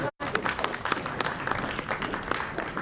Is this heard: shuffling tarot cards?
no